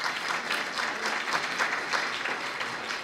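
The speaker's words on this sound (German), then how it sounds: "jetzt bitte ich auch euren Applaus." A crowd applauds steadily, a dense wash of clapping that holds at an even level for about three seconds with no voices on top.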